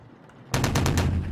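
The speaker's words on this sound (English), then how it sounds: "Don't be banging on my window." Rapid, loud banging on a window in the horror video game The Mortuary Assistant: a quick series of about six sharp, evenly spaced knocks that starts abruptly after a quiet moment.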